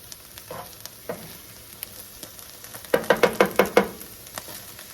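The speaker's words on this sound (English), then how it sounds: "I'm going to fry these until the onions get translucent" Mushrooms and onions fry in a pan for a crockpot Salisbury steak, with quiet sizzling broken by a few scrapes and then a quick run of five or six spoon knocks against the pan.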